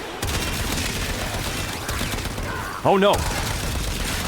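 Full-auto gunfire in the Warframe video game, a dense continuous rattle of rapid shots running steadily throughout, with a brief louder burst near the end as a man exclaims.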